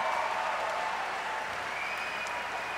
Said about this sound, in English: Give Doug Wilder a big round of applause.